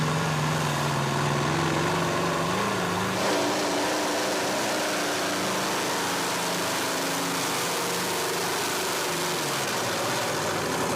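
A pulling tractor roars at full power during a tractor pull run at a Knutwil competition, a loud, sustained engine drone with shifting pitch and heavy noise that never lets up.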